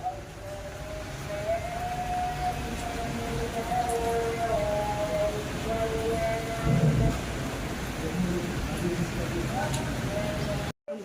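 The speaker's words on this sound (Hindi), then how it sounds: "बारिश कंटिन्यू हो रही है देखो" Steady rain pours continuously, a dense hiss of drops on surfaces, with faint distant tones and a low rumble underneath.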